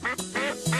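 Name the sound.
duck quacking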